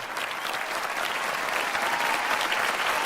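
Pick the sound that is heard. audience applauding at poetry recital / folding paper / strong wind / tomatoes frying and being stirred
audience applauding at poetry recital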